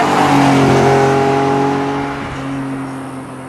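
A blue 1973 Ferrari Dino 246 GTS revs loudly while driving, its engine note rising through steady harmonic tones, then easing and settling slightly lower near the end, with no voices.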